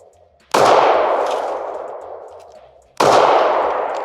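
Two sharp, loud pistol shots from Beretta and Taurus handguns, spaced about two and a half seconds apart, each a crisp crack followed by a long ringing decay in an otherwise quiet setting.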